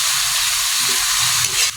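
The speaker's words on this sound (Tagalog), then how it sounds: "Tapos igisa natin." Vegetables for shrimp togue sauté in a hot pan, a loud, close, steady hiss of sizzling with a brief stir-like shuffle near the end and no voices.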